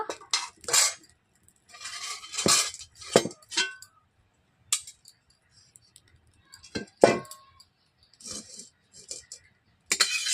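A metal kadai is set down on a lit stove, giving several sharp clanks and clinks of metal on metal scattered among quieter handling noises, fairly close and with gaps of silence between.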